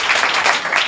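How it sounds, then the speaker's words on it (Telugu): A congregation at a church sermon claps together in a brief, loud burst of many hands for about a second. "చప్పట్లు కొట్టి"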